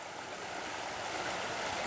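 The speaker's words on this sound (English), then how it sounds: "let's go check out the creek" Frog Creek flows in a steady, broad rushing wash of water at night, continuous and moderately quiet with no voices.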